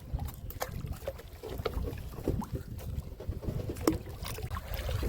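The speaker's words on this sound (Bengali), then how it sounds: "মাঝে মাঝে অল্প অল্প করে দাঁড় মেরে দিচ্ছি" A wooden fishing boat on a river, rowed with a single oar in slow, occasional strokes; soft water splashes and hull creaks sit over steady wind noise on the microphone.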